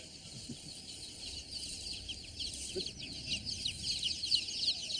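Day-old chicks, around 1,200 packed tightly in 15 boxes of 80, chirp in a dense, continuous high-pitched chorus that swells slightly louder over time.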